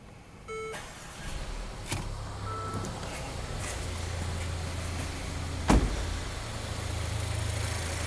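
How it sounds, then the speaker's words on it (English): A car engine is started with a key, with a brief chime and a short crank before it settles into a steady low idle hum that continues to the end, fairly close and moderately loud. "I've started my engine"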